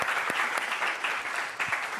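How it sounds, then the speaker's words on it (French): Audience applause on a French television set, a fairly quiet, continuous patter of many hands with a few sharper claps standing out. "qu'on applaudit très fort"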